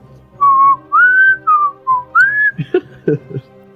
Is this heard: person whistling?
yes